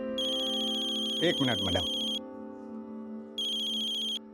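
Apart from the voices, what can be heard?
mobile phone ringtone, incoming call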